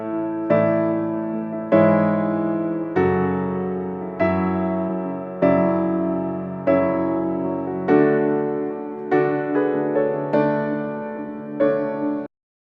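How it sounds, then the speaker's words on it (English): Keys in a live album mix with boosted low mids, playing about ten sustained chords in a steady rhythm, each struck and then decaying, warm and full, with nothing else over them. "I boosted some low mids in the keys"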